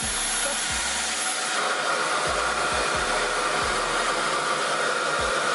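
A hair dryer blows at a higher setting, a loud, steady, broadband rushing roar held close throughout, with faint low thumps now and then beneath the continuous airflow.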